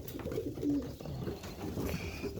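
Toss pigeons coo softly and repeatedly nearby, low throaty calls rolling one into another over a quiet background hum.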